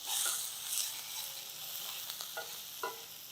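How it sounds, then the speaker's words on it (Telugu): Chopped onions fry in oil for vegetable bonda, a bright continuous sizzle up close, with a few light stirring scrapes toward the end and no voices. "ఉల్లిపాయలు వేగిన తర్వాత"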